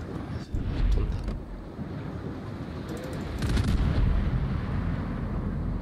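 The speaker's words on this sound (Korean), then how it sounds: "이거 쏘고" Warship guns fire in World of Warships, deep booming salvos rolling into a continuous heavy rumble with a couple of stronger blasts, loud and dense throughout.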